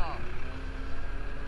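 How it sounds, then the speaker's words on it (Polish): Ursus C-360 tractor diesel engine running after a full engine rebuild, a steady, close rumbling drone with a whining tone over it and wind buffeting the microphone. "Wyje ładnie dieselek."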